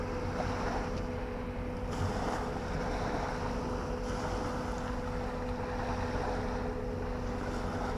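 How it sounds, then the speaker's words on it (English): A boat heading out to sea on a bright day during sea fishing, heard as a steady low engine drone mixed with constant wind buffeting the microphone and faint wave wash. "Another boat going out."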